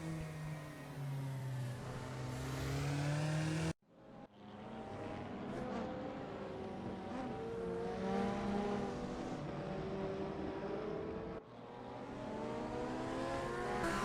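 McLaren GT4 race cars in a sim racing game scream past with high revving engines and shifting pitch, several cars overlapping, sustained and fairly loud with a brief cut in the sound partway through.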